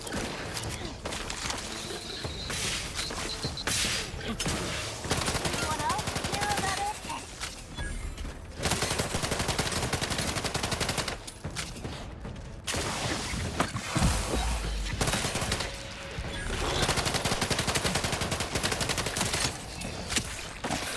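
Dense game gunfire from a firefight in The Outer Worlds, with continuous shots, mechanical clatter and occasional short gaps running through most of the span, mixed with game sound effects and a voice talking over it.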